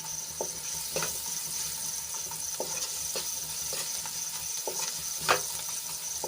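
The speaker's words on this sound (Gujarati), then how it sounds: "ડુંગળીને આપણે થોડીક સાંતળી લીધી છે" Finely chopped onion sautéing in a pan, a soft continuous sizzle with occasional light scrapes and taps of stirring, fairly quiet and close, with no talk over it.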